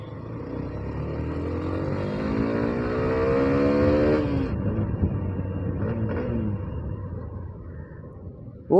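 KTM Duke motorcycle riding by, engine note climbing through revs then easing off and fading as it pulls away, moderately close.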